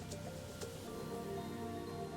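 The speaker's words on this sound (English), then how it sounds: "And now it's raining." Rain falls in the space exploration video game Phaenna, a soft, steady, faint patter under a low ambient hum with no speech.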